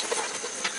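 Pieces of meat and their oil hitting a hot pot for khichuri, a steady broadband sizzle and hiss with faint crackling pops, close and even, with no talk.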